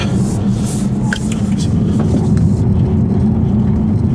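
A 2015 Volvo V60 T6 pulls hard at full throttle with traction control intervening, its engine a loud, steady low drone close up, with some talk inside the car.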